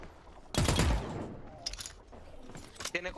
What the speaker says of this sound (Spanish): Me disparan atrás, vale.